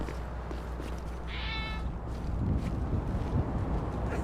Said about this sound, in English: There's a cat that lives nearby.